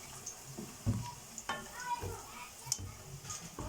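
Spiced eggplant fries in a pan and is stirred, with a low sizzle under irregular scraping and knocks of a spoon against the pan.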